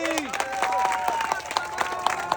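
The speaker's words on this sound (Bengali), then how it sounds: "বাদশা ভাইয়ের জন্য সবাই একটা জোরে তালি" Audience clapping for the first-round winner of a tyre-hanging game contest, a scattered burst of claps with crowd noise and a voice talking over it.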